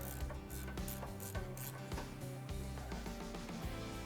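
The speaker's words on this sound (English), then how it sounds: "Grab an 18mm socket or wrench, loosen the nut" Rhythmic clicking of a socket wrench ratcheting as an 18mm ball joint nut is loosened on a 2018 Ford F-150, repeated quick clicks close by, with no voices.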